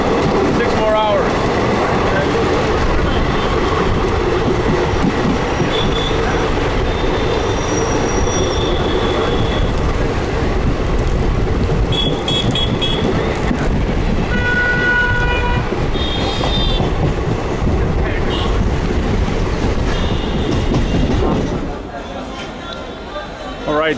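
Continuous clatter and rumble of an Indian passenger train running on rails, heard from on board, with wheel squeals, distant horn toots and people talking under the noise.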